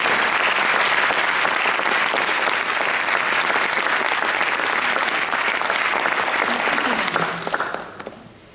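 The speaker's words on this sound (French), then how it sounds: "je vous demande quand même de l'applaudir" Audience at a school mediation conference applauding, a dense, loud, sustained wash of clapping that carries on steadily before thinning out and fading near the end.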